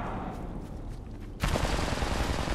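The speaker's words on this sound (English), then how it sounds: "I am taking fire, friends." Gunfire in Apex Legends, a sudden burst of rapid automatic shots that cuts in partway through and keeps rattling loudly after a stretch of quieter game ambience.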